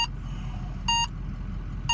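Electronic gas detector alarm at a well site emitting short bright beeps, three bursts spaced about a second apart over steady low background rumble.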